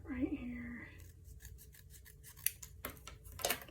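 Scissors snip through card stock for a pop-out fun fold card in a run of short, close cuts, with brief talk and a few louder snips near the end.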